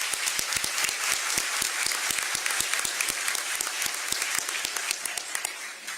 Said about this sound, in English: Everybody, please give these people a round of applause.